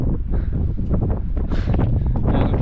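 Strong wind on a snowy Pyrenees mountainside roars and buffets the microphone continuously, loud and close, with no voices.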